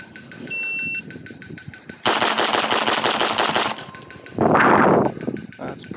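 Rapid bursts of gunshots ring out at targets, loud and close, while a metronome ticks with steady, regular beeps underneath.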